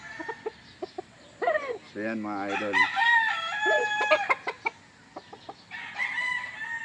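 A broodcock rooster of the NUDC line crows loudly and clearly at close range, with sharp clucks before and after the crow; someone speaks briefly nearby.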